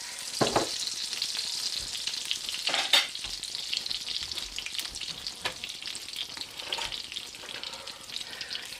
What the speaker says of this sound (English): scraping up the bits. The yummy bits in the bottom